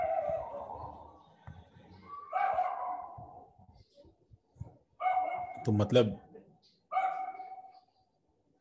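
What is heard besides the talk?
dogs barking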